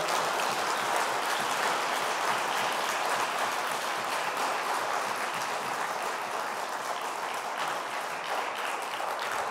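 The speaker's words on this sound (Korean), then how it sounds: "힘내시도록 힘찬 박수를 모시겠어요." A church congregation at a Sunday youth worship service applauding a pastor: dense, steady clapping from many hands, sustained throughout with no talking.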